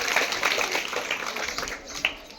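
Children at a science quiz applauding a correct answer, a short burst of scattered clapping that carries on for a couple of seconds, moderately loud, with voices faintly mixed in.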